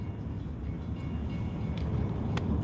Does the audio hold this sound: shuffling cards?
no